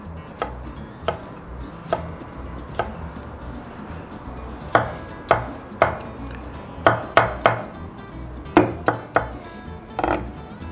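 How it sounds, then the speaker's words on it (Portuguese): Knife chopping tomato on a board in a home kitchen for an escondidinho campeiro, a series of sharp, close taps in loose irregular bursts with pauses, no talk. "o tomate corta de tudo quanto é jeito"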